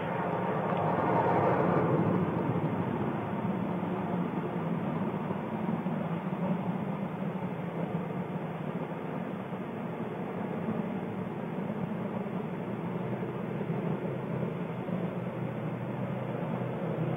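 Space Shuttle Challenger on mission STS-41B rolling out after a 190-knot touchdown on the Kennedy Space Center runway, heard as a steady, broad roar of rushing air and rumble that holds level throughout, with no voices.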